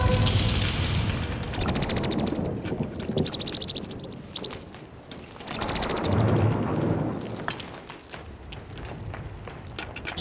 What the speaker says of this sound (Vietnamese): Sấm sét mà cũng sợ sao?